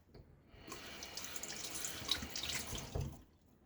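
Water running from a tap into a shaving bowl as lather is built for a wet shave, a soft, steady splashing trickle close by that starts and stops, with no talk.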